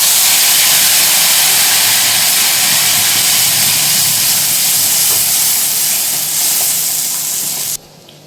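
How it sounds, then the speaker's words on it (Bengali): Prawn head paste with garlic and green chili hits hot oil and sizzles loudly and steadily at close range for several seconds before cutting off abruptly, with no talk. "তো তেলটা গরম হয়ে গেছে আর আমরা ফোড়ন দিয়ে দিয়েছি। এরপর এর মধ্যে দিয়ে দেবো পেস্টটা।"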